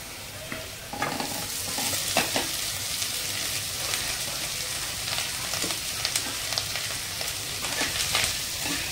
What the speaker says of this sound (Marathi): आता आपण जो बटाटा स्मॅश केलेला आहे तो बटाटा त्याच्यामध्ये घालून घेऊया।